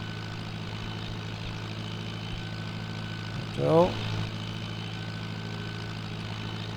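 A Mercedes-Benz truck engine in Farming Simulator 19 gives a steady, low engine drone throughout, mixed with the player's own vehicle engine, while a person talks over it.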